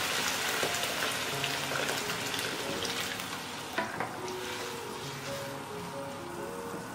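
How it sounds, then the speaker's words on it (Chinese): Pork tripe soup with boiling water added, cooking on high heat in a pot: a steady, dense bubbling and seething roar with occasional light clinks, continuous and close throughout. "淋入开水，把开水加进来，调大火给它煮个5分钟"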